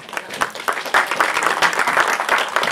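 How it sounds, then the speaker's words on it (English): A Speakers Club audience claps together, a dense, uneven patter of hands that swells and stays lively for a few seconds, fairly close and loud. "Come on, give him a clap."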